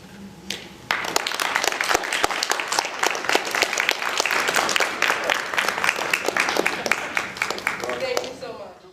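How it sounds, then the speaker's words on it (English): After a brief pause, an audience at a Black History Month celebration erupts into sustained clapping for the speakers standing before them. The applause is crisp and dense, with some voices mixed in as it gradually tapers off. "could everyone give them a round of applause?"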